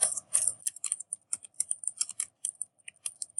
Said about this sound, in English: I'm just typing the example in the book